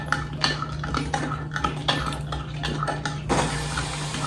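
A spoon stirs an eggnog mixture in a bowl, clinking and scraping against the sides in a quick, steady rhythm over a constant low background hum.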